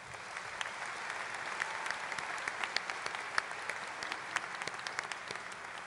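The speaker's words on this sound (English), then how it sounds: "Please join me in a round of applause." An audience at a 2012 high school graduation ceremony claps in a steady, fairly distant patter, with sharp individual claps standing out.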